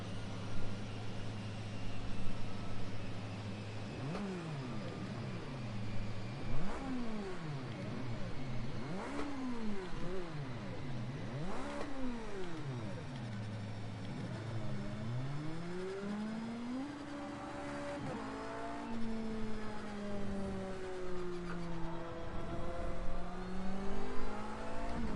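Race car engine in a NASCAR video game revved with the clutch held in, the pitch swooping up and down in repeated blips, then settling into a rising, wavering whine.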